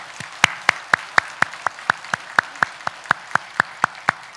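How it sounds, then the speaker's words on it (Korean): A church congregation giving thanks with applause, heard as a regular series of sharp, evenly spaced claps in unison, about sixteen strong beats at a steady rhythm, close and clear with little else around them. "그리하실 하나님 앞에 우리 감사와 영광의 박수를 올려드리도록 하겠습니다."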